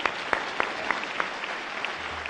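A physician assistant graduating class claps at a graduation ceremony, dense steady applause with a few louder individual claps standing out near the front.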